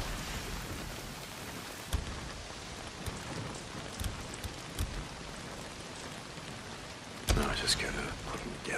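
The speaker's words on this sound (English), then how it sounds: "Well, not if it's pissing down rain." Heavy rain pours steadily in the Days Gone video game, a dense continuous hiss with scattered louder drops and a sharp burst near the end; a faint voice may sit under it.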